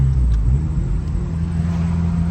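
A K20-swapped Honda Civic engine revs as the driver downshifts to third gear, a loud low rumble that swells and settles into a steady droning hum from inside the car.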